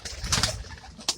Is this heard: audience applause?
no